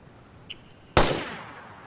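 A single loud gunshot in the DayZ video game, fired through a wall, with a sharp close crack that decays into a short echoing tail after a faint earlier click.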